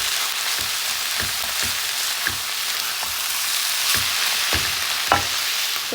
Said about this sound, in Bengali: এই কড়াইতে এখন হচ্ছে আমি পালং শাক দিয়ে চিংড়ি মাছ রান্না